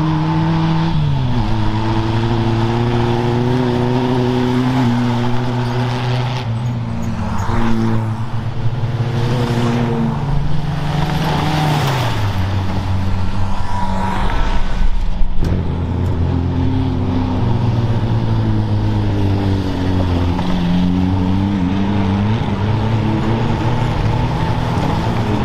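Renault 4L race cars running flat out in a 24-hour endurance race at Pipriac, their small engines droning and revving loudly and without a break as several cars pass close by one after another, with no voices.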